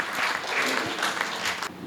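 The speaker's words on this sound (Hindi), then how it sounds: "जरा दोनों हाथ उठाकर तालियां बजाकर अगवानी करें बलवीर सिंह खिचड़ी।" Audience applause welcoming a comedy poet onto the stage at a Hindi poetry gathering, a dense, steady burst of clapping from a crowd lasting a couple of seconds with no talk over it.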